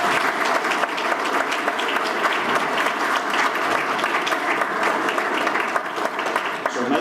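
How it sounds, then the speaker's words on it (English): A room full of people at a Founders Day event at a country club clapping steadily, dense and sustained applause for several seconds. "Let's give her a hand of applause."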